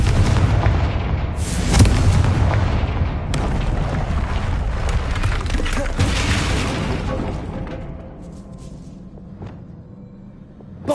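Repeated booming blasts of the Confringo fire spell in Hogwarts Legacy, several heavy explosive bursts with crackling debris that fade toward quiet by the end, with faint speech underneath.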